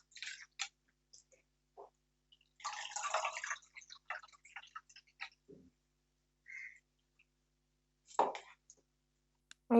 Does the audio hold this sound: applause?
no